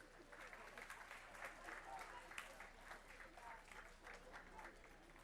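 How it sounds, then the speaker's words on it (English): Audience at a school board meeting applauding a student honoree, a quiet, distant patter of clapping from a modest crowd that carries on evenly with a low hum beneath. "Let's give her a round of applause"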